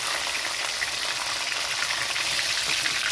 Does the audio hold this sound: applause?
no